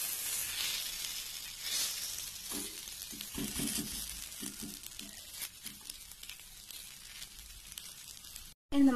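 An eggless omelette fries gently in a pan over a low flame, giving a steady soft sizzle and crackle for several seconds with no talking, then a brief pause and a sharp clunk at the end.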